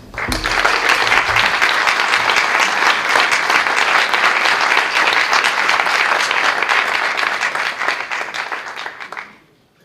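An audience at a talk and discussion in Puerto de la Cruz breaks into loud, sustained applause, dense and even for about nine seconds before fading out quickly.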